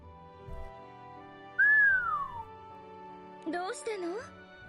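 A person whistles one clear gliding note that rises and then falls away. A moment later comes a shorter, wavering whistle. Both are close and fairly loud over a quiet background.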